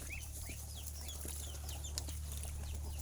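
Hens and chicks on a Thai farmyard clucking and peeping, with thin high chick cheeps scattered over a low steady hum, fairly faint and continuous with no talk.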